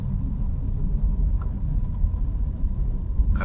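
Heavy road traffic on Commonwealth in the Philippines, heard from inside a vehicle as a low continuous rumble of engines and tires, steady and fairly loud, with a couple of faint higher passing sounds.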